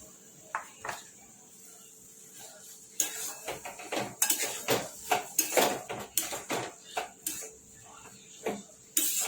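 A spoon scraping and clinking against a pan while roasted masala is mixed, sparse taps at first, then a dense run of loud metallic scrapes and knocks close by.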